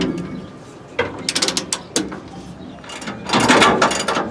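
Ratchet wrench tightening large U-bolt nuts while installing Hellwig Load Pro LP-25 helper springs: bursts of quick metallic clicking in short runs, close by, with a longer, louder run of ratcheting near the end.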